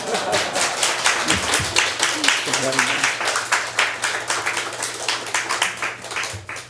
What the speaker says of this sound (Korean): 올라오실 때까지 박수 주셔야 돼요.